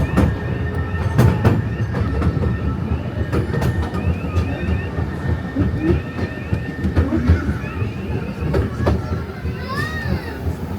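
The Legoland Windsor Resort train running along its track, steady clattering and rumbling with squeaks and clicks, children's voices and park chatter mixed in.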